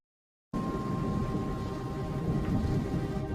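Thunder rumbles through a heavy thunderstorm over an airport, a continuous low, rolling roar mixed with steady rain after a brief silent start, with no voices.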